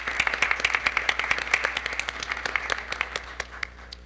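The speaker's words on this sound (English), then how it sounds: "I think they deserve a round of applause for that." Audience applause at a board of education meeting, a steady patter of many hands clapping for about four seconds, fairly close and fading slightly toward the end.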